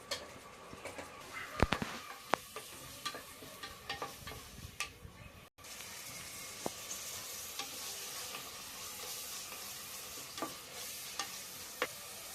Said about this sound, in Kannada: ಈರುಳ್ಳಿನ ಚೆನ್ನಾಗಿ ಕೆಂಪಗೆ ಫ್ರೈ ಮಾಡ್ಕೊಳ್ಳೋಣ.